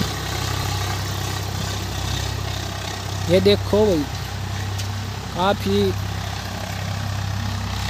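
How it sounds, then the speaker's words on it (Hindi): A Swraj 855 diesel tractor engine chugs steadily at close range, a low constant rumble, while someone talks briefly in Hindi over it. "अच्छी आवाज है जो कर कर की आवाज है ना इसकी ट्रैक्टर की बड़ी जबरदस्त आवाज है"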